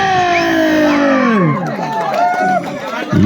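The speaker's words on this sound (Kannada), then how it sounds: "ಬಂದ ಪ್ರೇಕ್ಷಕರೇ ಬರ್ಲಿ ಒಂದು ಜೋರ ಚಪ್ಪಾಳೆ" Spectators at a kabaddi final cheer and shout loudly in a close crowd, with whoops and voices rising over one another for a few seconds.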